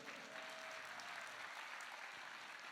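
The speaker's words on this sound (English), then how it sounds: "let's just have a little round of applause for our technicians" Sustained applause for the technicians and crew at an autism talent show, a steady even wash of clapping from the audience with no voices over it, quiet and distant.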